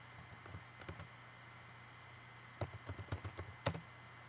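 Close, faint keystrokes on a computer keyboard come in two short bursts of quick taps separated by a pause, over a steady electronic hum.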